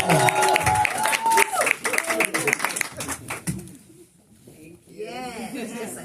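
An audience clapping for a performer at a book release event, loud and dense at first with cheers and voices, thinning into scattered claps, then talk resumes.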